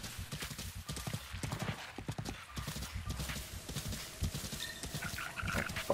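Hooves of horses gallop in a fast, rhythmic clip-clop in a video game, a steady stream of beats at moderate distance with faint background noise.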